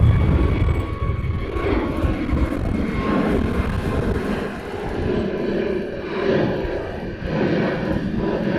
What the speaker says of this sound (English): That was a 321 Hawaiian